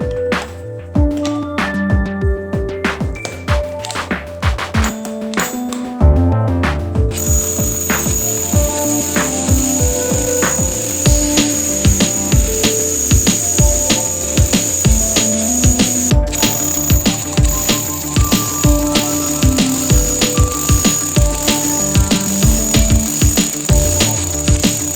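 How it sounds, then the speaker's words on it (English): A hole saw grinds into a concrete wall with a loud, continuous abrasive roar and rhythmic scraping, lasting the whole time after a brief startup. "Cut the wall with a concrete hole saw."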